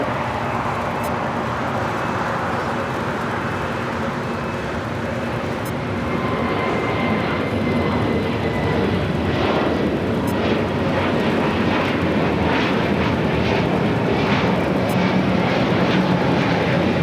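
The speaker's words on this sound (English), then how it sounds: "American Airlines, flight 1240 heading to Reagan National, and then A321 Neo will be taking off on" An American Airlines A321neo jet takes off from runway 25 right at LAX, bound for Reagan National. Its broad engine roar holds steady and swells louder through the second half as it builds power.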